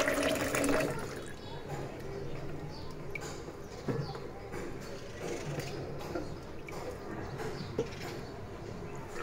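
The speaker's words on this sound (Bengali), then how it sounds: "সব কিছু ধুয়ে রেডি করে নিচ্ছি।" Running water splashes steadily as vegetables are rinsed in a home kitchen before cooking, with a continuous wash of flow and small clatters throughout.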